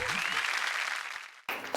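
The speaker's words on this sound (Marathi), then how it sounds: "जोरदार टाळ्या होऊन जाऊ दे." A short burst of loud applause from an audience at a televised women's game show, clapping densely for about a second and a half before fading, then a sharp fresh burst at the end.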